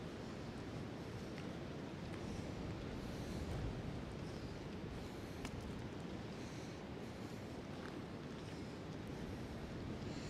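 Strong wind roars steadily through Prospect Park in Brooklyn, a constant broadband rush buffeting the microphone for the whole stretch with no voices.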